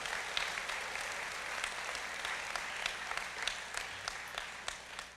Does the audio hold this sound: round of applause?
yes